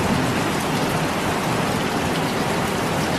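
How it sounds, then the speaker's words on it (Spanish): Steady rain falls outside in the early morning, a dense and even hiss of drops on surfaces that is close and constant throughout, with no voices. "Se ha pasado toda la noche lloviendo."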